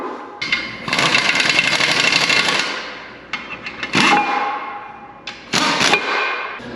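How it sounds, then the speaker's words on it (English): A metal adapter plate being bolted onto the back of a diesel engine, with a long burst of ratcheting or tool whirring followed by shorter bursts and sharp metallic clanks, loud and close. "So we're going to bolt this adapter plate on here."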